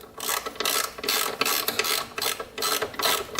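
Ratchet clicking on an 8mm socket as a bolt is tightened on a Yamaha Raptor 660R ATV, with rapid bursts of close mechanical clicks in several strokes and short pauses between them.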